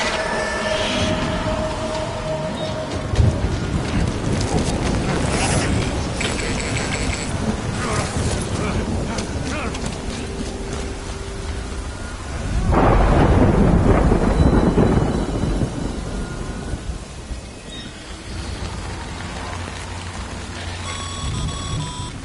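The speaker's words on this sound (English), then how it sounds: "Good thing it was raining." Heavy rain and rumbling thunder in a video game storm, a loud continuous wash with a strong surge of thunder midway, mixed with mechanical creaks and tones, while voices speak now and then.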